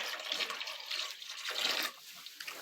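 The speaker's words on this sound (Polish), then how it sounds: "Dobra, lejemy im tu wodę." Water is poured out for sheep on a farm, a soft steady splashing and trickling that stops abruptly near the end, quiet and close with no talking.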